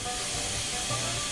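Steam hissing from a locomotive in the Railworks train simulator game, a steady broadband hiss with a low rumble underneath, loud and continuous throughout with no talk.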